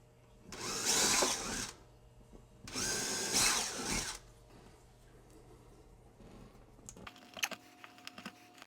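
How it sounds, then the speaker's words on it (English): A power drill boring quarter-inch holes whirs in two close bursts of about a second each, followed by quieter clicks and light handling noises. "1/4-inch drill to put 1/4-inch holes in."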